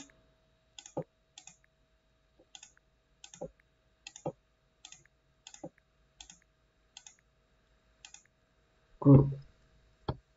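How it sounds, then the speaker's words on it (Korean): Keys on a computer keyboard click one at a time in sparse, irregular taps, some doubled like repeated backspace presses, close and crisp in a quiet room, ending with a louder thud. "기존의 내용은 백스페이스 눌러서 지워주시고요"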